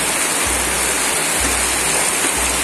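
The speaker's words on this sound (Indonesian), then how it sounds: "Wah, hujan-hujan semangat tenan." Heavy rain pours down in a steady, dense roar, loud and close throughout with no break or voices over it.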